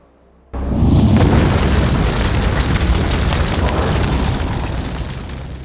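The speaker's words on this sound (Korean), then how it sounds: "시골길을 지나가다가 그만 사고가 나 차가 폭발하게 됩니다" A car in a Korean film crashes and explodes on a country road: a sudden loud boom, then a long roaring blast of fire that slowly fades.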